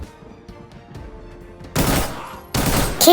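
Gunfire in the Arena Breakout shooter game: two loud, broad bursts of shots in the second half, each lasting about half a second, after a quieter stretch of faint in-game sounds.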